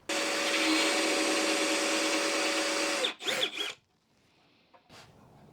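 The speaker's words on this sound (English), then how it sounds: "I want to just drill a little spot where this can recess into. So I'm using, I think this is a 1-inch Forstner bit." A drill bores with a 1-inch Forstner bit into wood, a steady loud whine for about three seconds, then a few short bursts as the trigger is pulsed, followed by quiet and a faint click.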